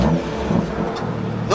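A BMW M2 fires up close by with a loud engine rumble and a brief rev. Voices sound faintly beneath it.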